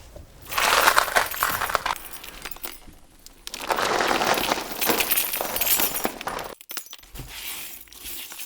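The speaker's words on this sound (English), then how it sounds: "you can really hear the sound of a broken glass" Continental bicycle tires with puncture-protection layers roll across a patch of broken glass, giving two long bursts of harsh crunching and crackling with sharp glassy clinks.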